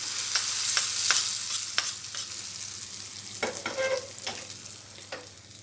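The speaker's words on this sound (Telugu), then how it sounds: "తాలింపు ఫ్రై అయిన తర్వాత మనం ముందుగా నూరుకున్న పచ్చడిలో వేసి కలుపుకోవాలి." Fried tempering with curry leaves stirred into a ground curry leaf chutney: a soft background sizzle with a series of scraping, clicking stirs, close and moderately loud, and no voices.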